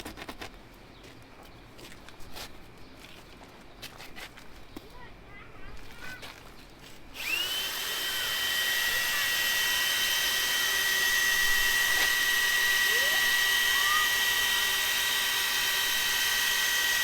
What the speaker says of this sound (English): We got this attachment on the drill.